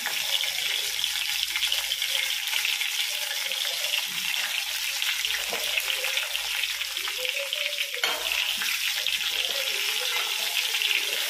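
Stuffed brinjals frying with curry leaves in a pan, a loud, dense, steady hiss of hot oil that holds for the whole stretch, close and uninterrupted by voices.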